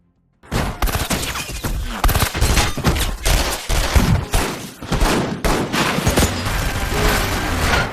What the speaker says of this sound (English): when Bats suddenly shoots the Butcher, leading to a violent gunfight